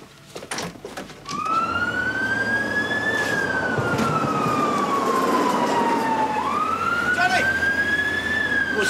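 An ambulance siren wails loudly in a street, a long rising and falling tone that starts after a second of background noise, sweeps down and then climbs again, close by and continuous.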